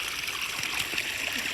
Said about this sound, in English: この水を入れてます。